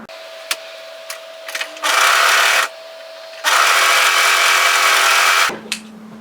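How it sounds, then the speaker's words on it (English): A sewing machine stitches the two-layer shoulder seam of a capelet hoodie in two sustained runs, one short and one longer, with brief clicks and handling between them and no talking. "we want to sew that shoulder together separately, so just the 2 layers as well for that one"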